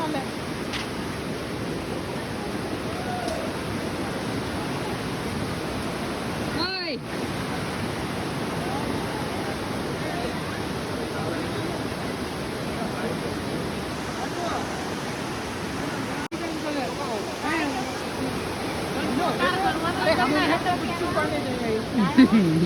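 Stream water flows at Guchhupani Robber's Cave in Dehradun, Uttarakhand, a constant rushing roar that fills the whole stretch, with voices occasionally heard over it.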